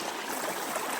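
Creek flowing beside a campsite on the Appalachian Trail, a steady broadband rush of water heard alone at low level.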